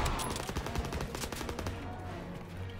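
Rapid bursts of automatic gunfire crackle in a Call of Duty WWII firefight, dense overlapping shots close and loud for nearly three seconds before easing off.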